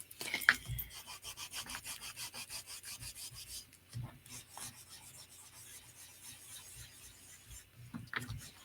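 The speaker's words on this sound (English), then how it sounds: "sanding of the card." Quiet, steady back-and-forth rasping of sandpaper over a playing card, close by, with a few faint taps and knocks.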